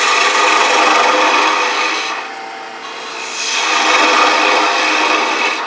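A bowl gouge roughs down wood on a lathe while a captive ring goblet is being turned, making a loud, continuous rasping hiss that eases briefly in the middle and then returns at full strength.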